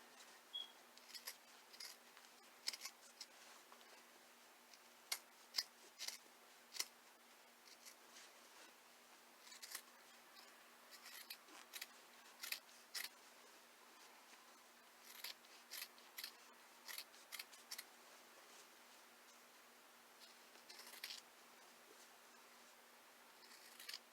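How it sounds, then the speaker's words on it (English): Scissors trim satin fabric close to a seam line while sewing lined scrubwear, producing faint, scattered snips and clicks spread irregularly over a quiet stretch. "You're going to trim it as close as you can"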